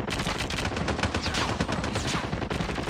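Dense, continuous gunfire from Call of Duty Mobile gameplay fills the scene, with rapid automatic bursts and shots layered into a loud, unbroken roar.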